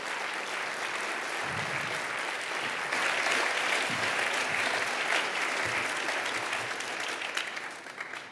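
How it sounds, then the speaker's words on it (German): An audience at a panel event on basic income applauds a filmmaker as he is called to the podium, a broad, sustained wash of clapping from many hands that swells slightly, then tapers. "Bitte einen Applaus für Enno Schmidt."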